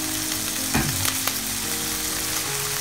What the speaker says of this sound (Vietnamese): Mình xào miếng cá nó vẫn còn này